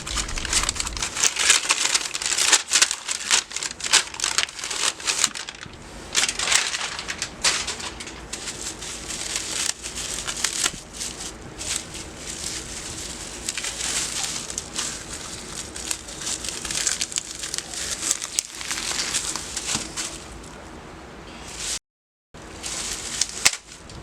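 Paper wrapping around a graphics card crinkles and rustles close up as it is unpacked, a steady run of crackly crumples lasting throughout with only a brief pause near the end.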